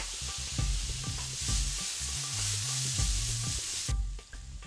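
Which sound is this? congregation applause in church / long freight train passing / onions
onions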